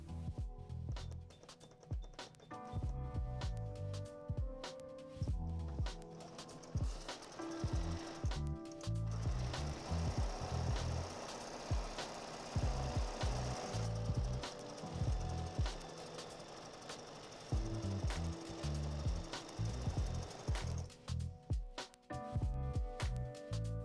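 A sewing machine with a walking foot quilts straight lines, running in a fast, steady mechanical chatter that pauses briefly and restarts, close and continuous for most of the stretch.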